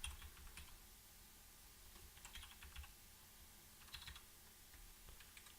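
Rapid typing on a computer keyboard with irregular bursts of key clicks, close and fairly quiet, with no one talking.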